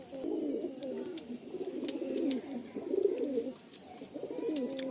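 Lal dom (red-tail, also called chocolate dom) pigeons at a loft, cooing in a steady, rolling low murmur that runs on through the whole stretch, with faint higher chirps above.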